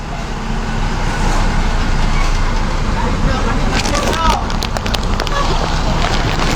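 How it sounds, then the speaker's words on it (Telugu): A lorry passes close on a road near Gajulanka, a loud steady roar of engine and tyre noise that swells slightly midway and fills the whole stretch, with voices faintly present. "చేతులు లోపల పెట్టండి, లారీ వస్తుంది"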